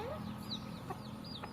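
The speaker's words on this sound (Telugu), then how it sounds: "కోళ్ళు." Chickens cluck softly and sporadically at a distance while pecking at scattered rice, under a faint background hum.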